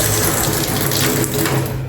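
Water runs steadily from a newly installed tap at a building project, a continuous close hiss with a faint mechanical hum underneath and no talking.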